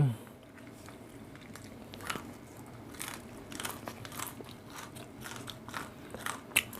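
Raw bitter vegetables get eaten close to the mouth, with repeated crisp crunching bites and chewing in an uneven rhythm and a faint voice murmuring in the background.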